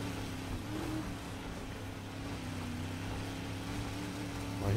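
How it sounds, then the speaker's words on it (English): Engines of other cars in a racing video game, a steady low droning hum of several vehicles at a distance, faint and continuous with no talk. "I hear other cars."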